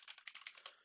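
Rapid keystrokes on a computer keyboard, around eight crisp clicks in an uneven rhythm over under a second, close and fairly quiet.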